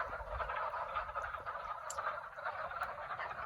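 Wood frogs calling from a spring pond where eggs are laid, a steady chorus of soft, clucking croaks layered together at moderate distance, continuous throughout with no voices.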